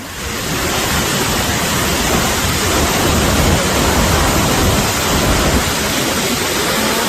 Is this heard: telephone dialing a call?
no